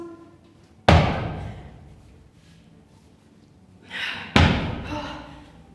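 Two heavy ball slams land on the floor during a legs and glutes workout finisher, each a sharp loud thud with a short tail, about three seconds apart, with faint background noise between them.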